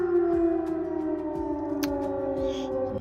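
An air raid siren wails over Sumy, Ukraine, a loud sustained howling tone that holds steady throughout, with a few faint knocks and background noises underneath.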